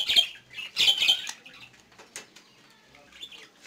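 Pet budgies in a breeding cage flutter and squawk in short bursts of wing flapping and sharp calls. The two loudest bursts come at the start, followed by fainter chirps and rustling.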